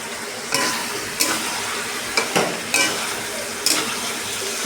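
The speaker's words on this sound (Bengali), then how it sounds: "পেস্ট করা মশলাটাকে আমি নাড়িয়ে নিচ্ছি।" Spice paste and potatoes sizzle in a hot pan under a steady hiss, broken by about six sharp scraping strokes of a spoon stirring at an even pace, close and loud.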